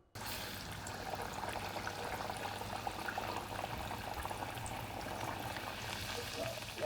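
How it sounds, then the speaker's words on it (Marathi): Fasting vadas dropped one by one into well-heated oil in a wide pan, giving a steady, dense bubbling and hissing with a low hum underneath, continuous and close throughout. "आता हे एक एक वडे मी ह्या तेलामध्ये सोडते"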